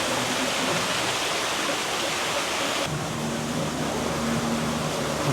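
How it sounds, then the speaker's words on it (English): Waterfalls in the Polynesian-themed Mai Kai Restaurant, a constant rushing hiss of falling water that holds steady throughout, with no talking over it. "And so many waterfalls."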